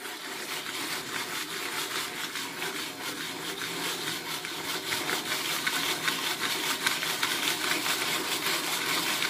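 A Jiffy Pop popcorn pan shaken briskly on a stovetop makes continuous scraping, rattling metal friction with a fast rhythmic pulse, building slightly in intensity, close and steady without speech.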